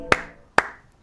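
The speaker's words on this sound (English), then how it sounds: "I'll give you 2 claps." Two sharp hand claps sound close and loud, about half a second apart, alone in a quiet room.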